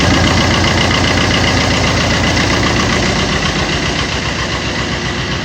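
A Fiat Multijet diesel car engine runs at a loud, steady idle close by, with a constant knocking rumble and vibration throughout.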